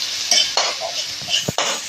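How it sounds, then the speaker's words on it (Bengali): Garlic and ginger fry lightly in oil over onions in a pan, a close sizzle broken by a few clinks and scrapes of a utensil, with no talking. "এগুলোকে একটু হালকা ভেজে নেব।"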